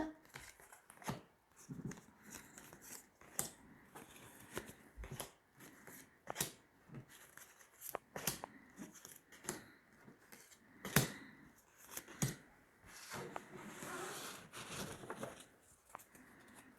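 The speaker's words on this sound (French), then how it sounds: "Allez, on va tirer 9 cartes." Tarot cards being drawn and laid out from a deck, with soft shuffling, sliding and flicking sounds in irregular bursts close by, some rustling louder near the end, with no talking.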